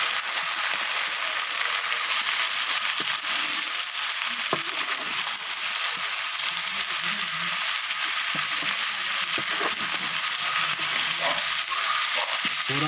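Green chillies slit down the centre fry in a pan with okra and chicken, giving a steady hissing sizzle with occasional scraping and stirring clicks, continuous and close.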